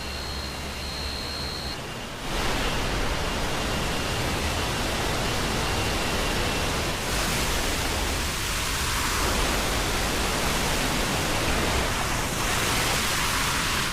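Huai Nam Yen waterfall in Omkoi pours as a steady, loud broadband rush of falling water with no break, the roar briefly quieter at the very start before settling into a dense, even wash.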